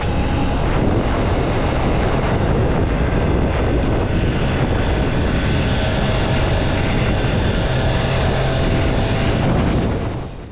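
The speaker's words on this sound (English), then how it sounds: "whistle layered over a deeper bass thrum, even with the stock exhaust" 2023 Triumph Trident 660 motorcycle with stock exhaust, a loud continuous engine whistle over a deep bass thrum mixed with heavy wind rush while riding, steady for about ten seconds before fading, no talking.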